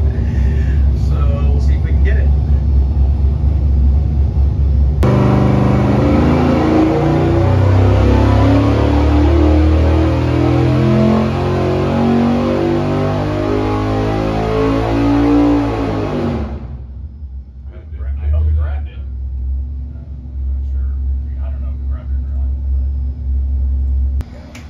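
A GM 427 LS7 stroker crate engine runs a dyno pull. It rises from idle into a loud, sustained, climbing roar for about eleven seconds, then cuts back to a lower rumble. Voices are heard faintly around it.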